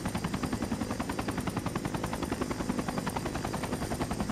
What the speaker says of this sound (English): This is what my first helicopter flight looked like.